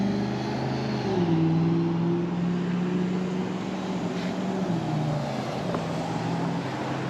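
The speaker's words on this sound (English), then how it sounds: "Alright, crossing a main road with lots of cars." Cars pass steadily along a busy main road in Bakersfield, a continuous roar of engines and tires with wind buffeting the microphone and a rising and falling engine drone from a nearby vehicle, with no talk.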